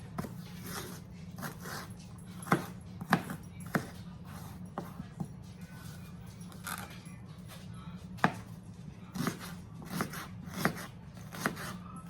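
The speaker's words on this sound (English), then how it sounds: "just do a little rough chop." A knife rough-chops onions on a cutting board for a spaghetti meat sauce, with irregular sharp thuds over a low background hum and no speech.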